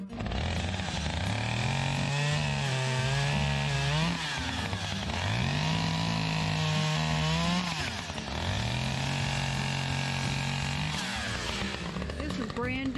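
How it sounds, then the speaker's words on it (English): A power tool trimming mountain laurel shrubs at a cabin, its loud engine whine rising and falling in repeated revving bursts that fill the whole stretch. "He is trimming up some of our mountain laurels"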